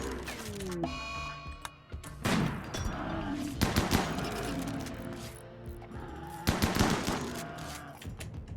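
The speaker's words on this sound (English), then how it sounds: "Stop! Don't shoot! You're shooting friends." Gunfire in the colony-survival game Rimworld: repeated crackling bursts of shots across the whole stretch, loud and dense, with stronger volleys near the start, middle and end, under a steady game background.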